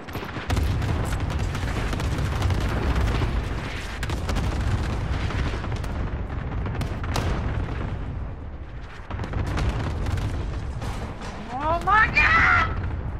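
Artillery strike explosions from an online military shooter game rumble as a dense, continuous barrage of deep booms across the whole stretch, loud and close, with players talking over the blasts.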